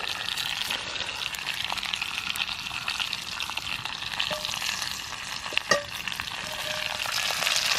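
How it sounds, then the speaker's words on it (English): Meat fat crisping in a camping pan over an outdoor fire in the northern woods, a steady close hiss and crackle with scattered pops running throughout, without any voices. "Just crisping up the fat on the outside"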